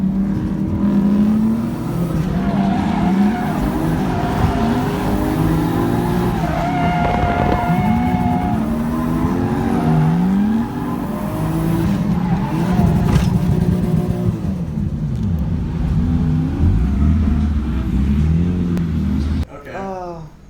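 Nissan 240SX drift car running a lap at Final Bout, engine revving and wavering continuously with tire squeal and skids, loud and close throughout, with people talking over it.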